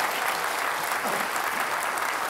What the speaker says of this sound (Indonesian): kita beri tepuk tangan untuk Pak Basuki Cahaya Purnama